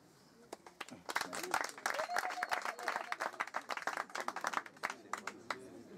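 A crowd at a Congolese church peace gathering breaks into steady, lively applause, many hands clapping together in a sustained burst that stays fairly close.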